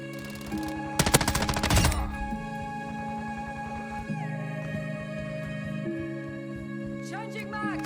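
Video game gunfire from Modern Warfare 2 cracks out as a rapid burst of automatic shots, loud and close, followed by softer game effects and mechanical clicks.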